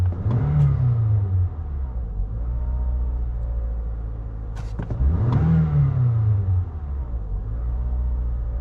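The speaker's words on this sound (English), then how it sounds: "I'll rev her a few times." A warmed-up Toyota Camry with a high idle and low-idle stalling fault revs twice, each rise and fall surging over a steady loud engine rumble, heard close with no talking.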